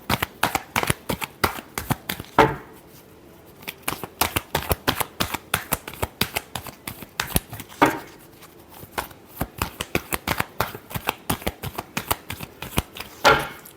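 Tarot cards being shuffled by hand in a rapid run of crisp riffling flicks and slaps, with a couple of louder bridging riffles along the way, close and clear with no talking.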